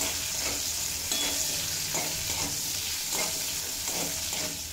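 Capsicum frying in oil with a little salt over a medium-to-high flame, a steady close sizzle with periodic scraping stirs throughout, no voices.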